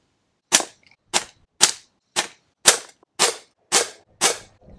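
Eight sharp, evenly spaced shots from a Benjamin pRod PCP air pistol fired at a paper target, each a crisp pneumatic crack with a short decay, loud and close with no talk.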